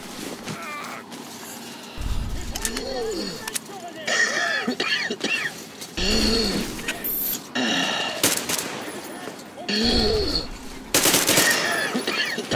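Enemy gunfire in the shooter game Metro Exodus comes in repeated bursts of sharp shots over several seconds, mixed with game sounds while a player talks over it.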